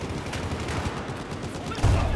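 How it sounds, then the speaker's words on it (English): Gunfire aimed at a tank in Battlefield 4 crackles in a rapid, rolling series of shots with a heavier thump near the end, moderately loud and continuous. "Shooting the tank. I hit the tank."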